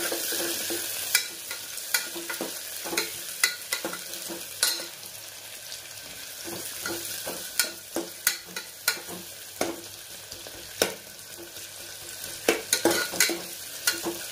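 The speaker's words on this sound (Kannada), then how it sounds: "ಇದಕ್ಕೆ ಈರುಳ್ಳಿ ಹಾಕಿ ಇದು ಸ್ವಲ್ಪ ಫ್ರೈ ಮಾಡಿ ನೀಟಾಗಿ." Lengthwise-sliced onions frying in a pan, with a low steady sizzle and frequent sharp spatula scrapes and taps, nobody talking.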